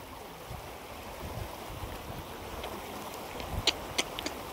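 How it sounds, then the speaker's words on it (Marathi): A swollen river rushes in a steady broad wash of flowing water, continuous and moderately loud, with a few sharp splashes or knocks near the end. "बघ ना केवढी नदी झाली"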